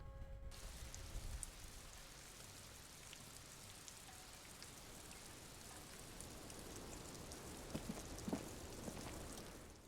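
Steady rain falls in Disco Elysium, a soft continuous patter with scattered drops and a faint low rumble, fairly quiet throughout with no talk.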